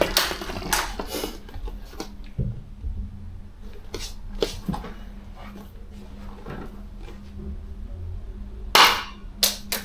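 Target shooting attempts with a gun, giving several sharp, loud cracks at irregular intervals, including a burst of close shots near the end, with clicks and handling noise in between.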